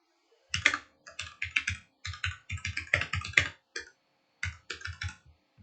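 Fingers tap out an address on a computer keyboard in quick, uneven bursts of crisp clicks with brief pauses between words, close and fairly quiet, no voices.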